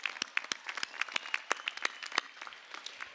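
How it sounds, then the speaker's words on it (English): Applause at a university spring commencement thanking faculty, sparse, crisp claps from a distant crowd, thinning toward the end. "Let's give a nice round of applause of thank you for those faculty and the good work they've done."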